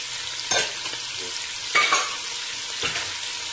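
Onions, celery and carrots fry in hot oil in a pan, a continuous close sizzle broken by three louder bursts as the vegetables are stirred or tossed.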